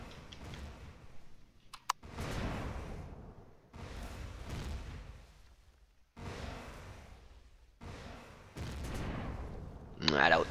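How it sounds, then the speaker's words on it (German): In the Empyrion space game, a small cannon fires repeatedly: five or six heavy bursts about every two seconds, each a thudding blast with a rumbling tail, fairly loud and without talk. "Hier, irgendeine kleine Kanone von ihm schießt auf mich."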